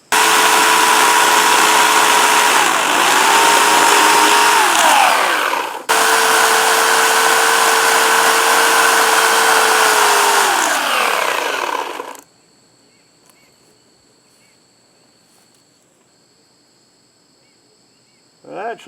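A Harbor Freight Portland 14-inch electric chainsaw cuts through chestnut wood in two loud, steady bursts of high whining motor and chain noise, the first about six seconds long and the second about six seconds, then cuts off into near silence.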